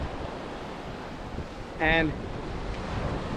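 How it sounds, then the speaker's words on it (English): Waves wash onto a beach at Martha's Vineyard as a steady broadband rush with wind noise, while a voice briefly speaks over it. "I'm still hiking on the beach, otherwise called walking along the beach."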